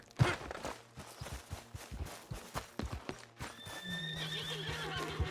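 In the video game Red Dead Redemption 2, a horse whinnies loudly while hooves clip-clop in an uneven walking rhythm, followed by a drawn-out neigh near the end.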